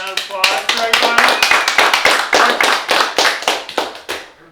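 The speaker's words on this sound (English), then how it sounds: "One more round of applause for everybody." A small team group claps loudly at close range, a dense run of sharp handclaps that thins toward the end.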